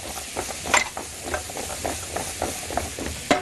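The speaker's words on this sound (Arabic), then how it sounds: "وهو الفلفل بشكشك كده اروح نازله بمعلقه الثوم" Peppers and garlic sizzle in a frying pan as a spoon stirs them, with soft crackling under repeated scraping strokes and a couple of sharper clinks of the spoon against the pan.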